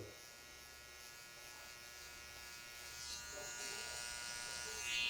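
Electric hair clippers tapering a neckline buzz quietly and steadily, growing somewhat louder and brighter toward the end as they work against the hair.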